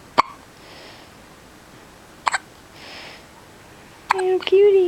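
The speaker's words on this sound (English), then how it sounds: "You get the hiccups all the time." Newborn baby hiccups, three short sharp ones spaced about two seconds apart, close and clear in a quiet room, followed by soft infant vocalizing.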